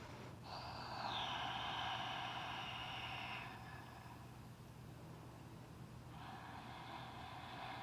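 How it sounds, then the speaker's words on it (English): Audible Ujjayi yoga breathing drawn in and out through the nose during a vinyasa practice, a long hissing breath of about three seconds followed by another starting near the end, close and steady with no talk. "finding that audible inhalation and exhale out of my nose"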